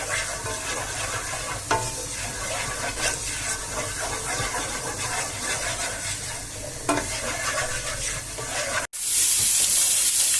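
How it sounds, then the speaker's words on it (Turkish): Onions sizzle steadily in a hot pan for a goose stuffing with rice pilaf and chestnuts, with repeated scraping stirs and a brief pause near the end before the frying noise returns louder. "Şimdi soğanını çeviriyoruz."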